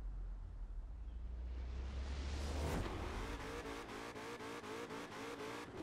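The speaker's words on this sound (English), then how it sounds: "Bit of a wheel spin." Wheel spin from a Ford Mustang Shelby GT500 in Forza Horizon 4: an engine revs and climbs hard as the tires squeal, then rhythmic pulsing bursts follow while the car pulls away.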